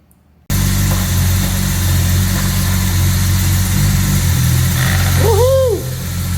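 Steady idling rumble from a 1962 Jaguar E-Type with its 3.8 engine, running continuously as the car starts to move, with a brief squeaky whine near the end.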